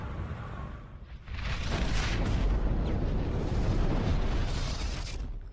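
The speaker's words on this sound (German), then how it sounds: "Das war eine mächtig große Explosion." A huge explosion in the video game Rocketbird: one loud, sustained blast that roars and rumbles for several seconds and then slowly fades, with no talking over it.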